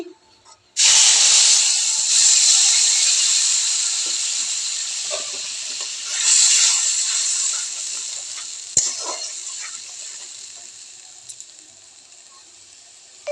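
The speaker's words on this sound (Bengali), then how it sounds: "আমার মশলাটা ভাজা ভাজা হয়ে গেছে" Spice paste frying in hot oil with potatoes gives a loud, steady sizzle that starts abruptly and slowly fades, broken by a few stirring scrapes and clicks. No voices.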